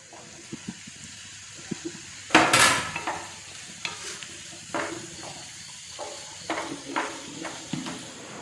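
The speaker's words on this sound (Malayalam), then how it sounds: "ഇനി നമുക്ക് അരിഞ്ഞച്ച ക്യാപ്സിക്കം കൂടി ചേർത്ത് കൊടുക്കാം" Chopped capsicum tumbling into a pan of frying onions for Kerala-style egg chilli, a loud clattering splash near the start followed by repeated scraping stirs over a soft, steady sizzle.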